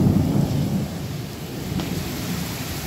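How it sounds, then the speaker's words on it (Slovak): Heavy rain pouring during a thunderstorm, a dense continuous roar that is louder at first and then steadies, close and unbroken. "takýto dážď tu nebol minimálne 5 rokov"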